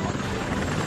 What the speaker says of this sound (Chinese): 飞机螺旋桨发出的声音非常的大